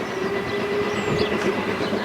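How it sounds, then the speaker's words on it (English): An LMS Jubilee steam locomotive, Bahamas, draws up to a level crossing on the Keighley & Worth Valley Railway during a spring steam gala, a steady rolling rumble with wheel clatter held at an even level throughout. "he's opening the crossing for the train"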